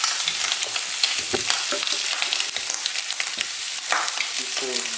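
Shrimp sizzling and browning in a pan with chopped tomatoes, a loud, continuous crackling fry with scattered pops and an occasional stirring clatter, close by, no talk.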